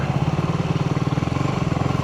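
A motorcycle engine revs briefly for a small wheelie, its rapid pulsing exhaust close and steady.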